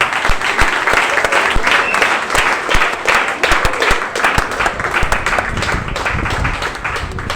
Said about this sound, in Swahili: Pigia Bwana Yesu makofi.